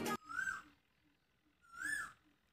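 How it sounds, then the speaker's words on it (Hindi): An Asian koel calls in the background in a rural Indian area, two rising whistled notes about a second and a half apart, clear and fairly near against quiet surroundings. "देखो इस समय भी कोयल बोल रही"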